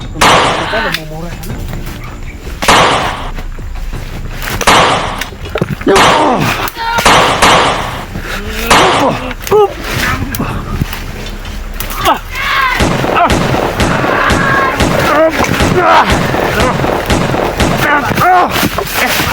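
Repeated loud gunshots from a long gun in a video game crack out in irregular bursts, mixed with excited voices shouting over the firing.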